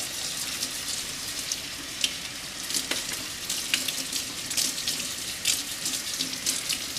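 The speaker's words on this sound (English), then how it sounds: "So I just want to give her leaves a nice rinse as I'm watering her." Water runs steadily from a tap as philodendron leaves are rinsed during watering, a continuous close splashing and hissing with small irregular spatters throughout, no talking.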